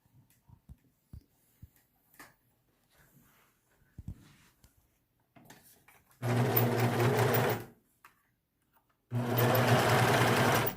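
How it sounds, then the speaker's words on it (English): A sewing machine stitches a pleat on a face mask in two loud, steady bursts of rapid mechanical whirring, preceded by soft clicks and handling noises. "So you put it in your sewing machine like this."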